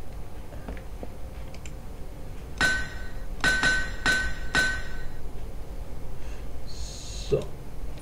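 Hammer strikes repairing an axe in the video game Minetest, four sharp metallic clanks in quick succession, then a quieter chime, over faint background noise and breathing.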